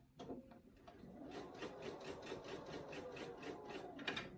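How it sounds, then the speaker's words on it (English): A sewing machine stitches a quarter-inch seam around the top of a fabric tissue box cover, a steady, even mechanical whirring with a fast repeating needle rhythm, close and moderately loud throughout. "I am just going to sew 1/4 of an inch around the top"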